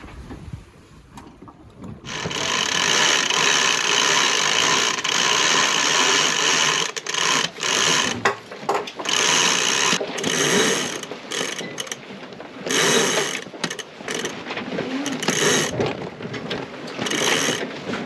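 An electric winch on a sailboat grinds steadily as it hoists the spinnaker, a loud mechanical whir with ratcheting clicks that starts after a couple of seconds and runs on in uneven bursts, close and without talk.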